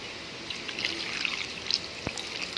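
A small amount of water trickling and splashing into a cooking pot on the stove, a soft, close pour lasting a couple of seconds.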